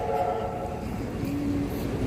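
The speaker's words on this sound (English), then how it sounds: "The metro's coming in again." A metro subway train pulls into a station with a steady low rumble and a drawn-out tonal squeal of wheels and brakes, close by and continuous.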